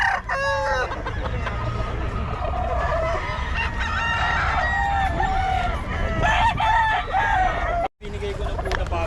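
Roosters and chickens at a gamefowl market in Bocaue crow and cluck close by, with overlapping calls throughout and a noisy crowd murmuring in the background.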